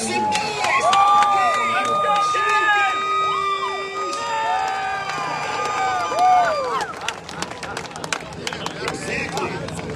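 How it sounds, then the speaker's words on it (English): Crowd cheering and clapping at the Lake Havasu IJSBA World Finals pro jet ski freestyle round, a steady, loud roar of many voices under whistles and ringing tones from the event, with babble throughout. "Ladies and gentlemen, Lake Havasu, stand up, clap, make some noise"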